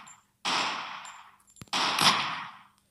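Two bursts of rapid automatic gunfire in the slow-motion shooter game Super Shoot: Red Hot, loud and close, separated by a short pause with a sharp click between them.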